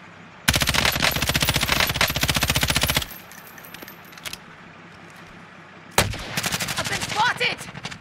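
Rapid automatic gunfire in the Call of Duty Warzone video game, two loud sustained bursts of fast, evenly spaced shots separated by a quieter gap with a few scattered single shots.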